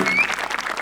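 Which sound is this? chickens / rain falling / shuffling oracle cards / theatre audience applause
theatre audience applause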